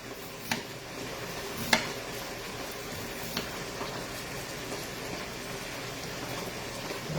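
Onions frying in a pan give a close, steady sizzle and crackle with a few sharp pops, alone and without talking.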